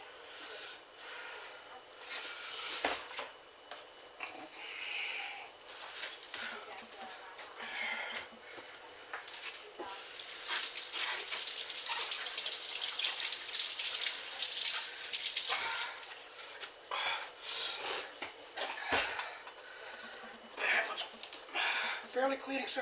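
Tap water running while cabbage is rinsed for sauerkraut, a continuous hissing splash that swells louder and softer as the head is turned under the stream, close by, with faint background voices.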